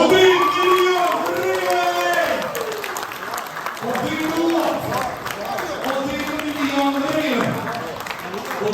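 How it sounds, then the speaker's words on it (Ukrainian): An audience applauds and cheers at a charity auction raising money for drones in Zolochiv district, a steady wash of clapping running under a loud amplified voice with music-like tones. "Давайте поаплодуємо."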